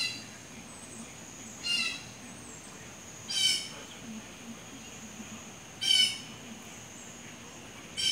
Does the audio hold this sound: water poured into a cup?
no